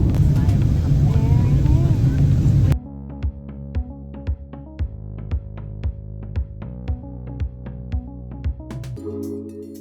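Airplane cabin during the descent into Naples, Italy: a loud, steady engine roar with a person talking fills the first few seconds, then cuts off and gives way to rhythmic music.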